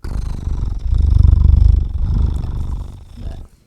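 A human voice imitates a cat's purr with a loud, close, rhythmic rumbling buzz that swells and fades over a few seconds.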